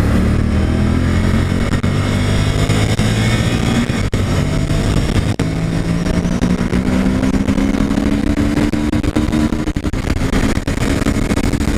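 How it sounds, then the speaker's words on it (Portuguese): A motorcycle accelerates hard on the Interlagos race circuit, its engine loud and close with the pitch rising steadily through the gears and brief dips at each shift. "E agora nós vamos meter o pau na motoca aqui, hein?"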